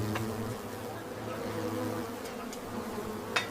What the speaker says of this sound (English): third-person view from behind a bee as it flies really fast around a backyard barbecue